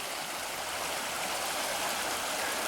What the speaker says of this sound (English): this one here is flowing pretty good.